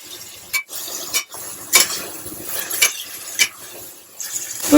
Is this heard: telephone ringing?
no